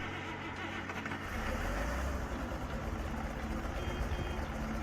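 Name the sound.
tractor engine in Farming Simulator 22 video game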